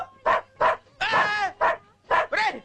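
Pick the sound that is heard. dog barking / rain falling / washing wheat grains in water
dog barking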